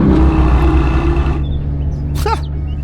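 A modded M4 GTS car in the video game Unturned gives a loud engine drone that drops away after about a second and a half, followed by a short, sharp squeal-like burst.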